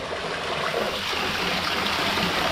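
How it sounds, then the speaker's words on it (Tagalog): Water circulating through a koi pond filter, a steady broadband rushing and trickling flow, close and continuous, alone with no talk. "Nag-circulate na yung tubig."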